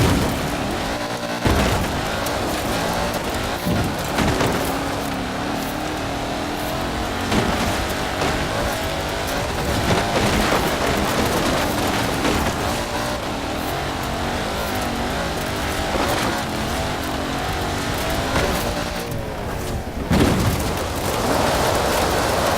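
An all-terrain supercar driving in the Forza Horizon 4 video game, its engine roaring loud and steady throughout, with gear-shift surges, tire noise and gritty terrain rumble.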